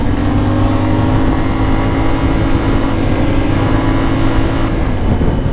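CF Moto 450 Ibex motorcycle engine under way in sixth gear, a steady loud drone with a constant low hum and harmonics, holding a smooth even pitch throughout.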